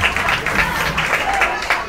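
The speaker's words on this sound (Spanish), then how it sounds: "El aplauso que se sienta." A crowd applauds at a children's promotion-to-primary school ceremony at Colegio San Felipe, steady clapping filling the short stretch with a murmur of voices beneath.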